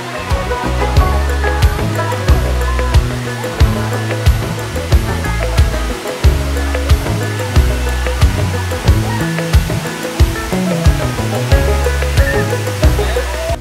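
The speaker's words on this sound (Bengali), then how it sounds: "এবার অন্যরকম রূপের পসরা সাজিয়ে ঝরে পড়ছে এই সুবলং ঝর্ণা" Shuvolong waterfall in Barkal, Rangamati, its falling water a constant heavy roar, with a strong repeating rhythmic pattern running through the whole stretch, loud and close.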